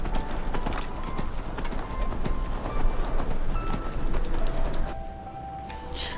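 Steady clip-clop of a donkey's hooves in the video game Enderal, set near the Duneville Tavern, a continuous close rhythm of hoofbeats running for several seconds over a busy ambient background.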